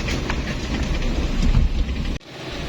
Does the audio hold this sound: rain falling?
yes